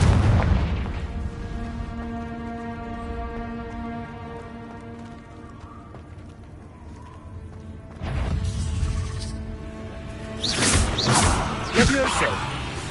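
Spell explosions from the Hogwarts Legacy video game, with a couple of loud booming blasts and crackling debris near the end after a quieter stretch of game ambience.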